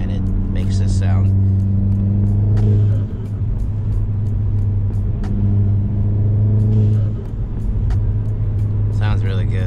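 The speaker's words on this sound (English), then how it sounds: "if you guys are wondering how I got it to flutter like that, they sell something called a diverter valve spacer" An MK7 Volkswagen GTI with a diverter valve spacer makes turbo flutter over a steady, loud engine drone. A brief chattering burst comes near the start and another around the middle.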